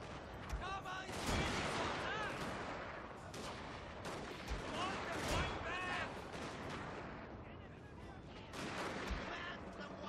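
Musket volleys crack and boom in a samurai battle video game, with repeated loud gunshots and ragged fusillades over battlefield noise, and a voice talks in between.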